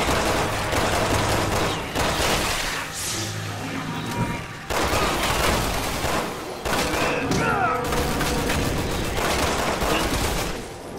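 Rapid bursts of gunfire from Resident Evil 6, loud and sustained over about eleven seconds with brief pauses, dense shots layered under game effects and some speech.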